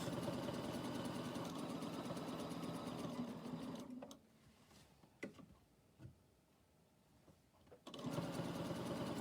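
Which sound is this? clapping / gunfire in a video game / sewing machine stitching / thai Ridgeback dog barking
sewing machine stitching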